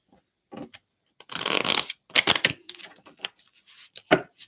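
Tarot deck of illustrated cards shuffled by hand in a few quick riffling bursts, close and crisp, with brief pauses between bursts and no talking.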